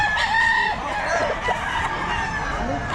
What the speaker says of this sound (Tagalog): Boss Randy, magkano mga manok mo ngayon?